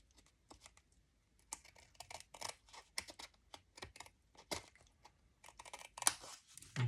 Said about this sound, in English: Now I'm going to cut the edges off on the side because that is too much of an overhang.